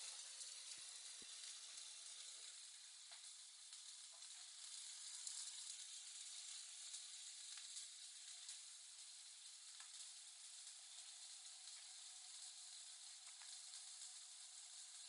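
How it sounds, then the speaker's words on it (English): Chicken roulade tied with twine sears in a hot pan, giving a loud, steady sizzle and hiss that fills the whole stretch without a break and with no talking. "while that's searing"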